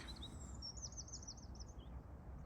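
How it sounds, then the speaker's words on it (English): Faint, high trilling bird song, likely a skylark, drifts over open moorland on the Eastern Moors near Millstone Edge. The warbling phrases float over a soft low background of wind and ambient rumble. "I think that's a skylark."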